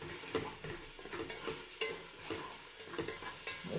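Shallot frying in leftover oil in a pan while being stirred for a chicken tagine with figs and ginger, a steady sizzle broken by repeated scraping stir strokes, close and moderately loud, with no talking.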